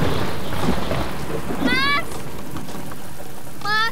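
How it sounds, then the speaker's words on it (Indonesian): Heavy rain pours steadily as a dense hiss, with two short high electronic chirps breaking through over it. "hujan"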